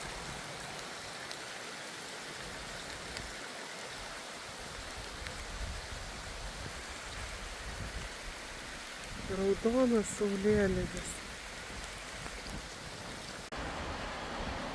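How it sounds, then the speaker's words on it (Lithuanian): Steady rain falls on a village during a thunderstorm weekend, a continuous soft wash of drops throughout, with voices talking briefly over it near the middle. "lietuks pila"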